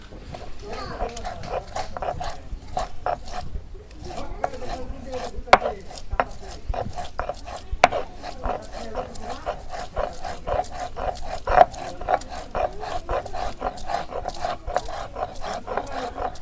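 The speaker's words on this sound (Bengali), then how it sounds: "আদা বাড়া হয়ে গেছে" Fresh ginger is ground into paste on a grinding stone for a country chicken dish, making steady, rhythmic rasping strokes that repeat closely and evenly at moderate loudness throughout.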